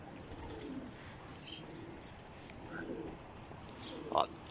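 Domestic pigeons cooing at a loft, faint soft coos drifting over steady outdoor background noise, with one brief louder bird call near the end.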